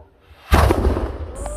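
A sudden sharp bang as a homemade potassium nitrate rocket bursts on launch in the Philippines, followed by a short rumbling tail and a faint high whine.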